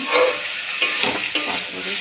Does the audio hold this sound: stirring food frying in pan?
yes